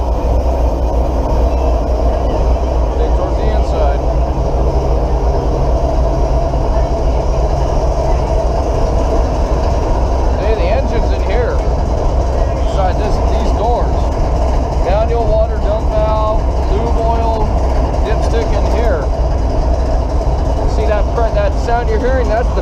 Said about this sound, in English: Sound you're hearing, that's the pistons as they're hitting up and down.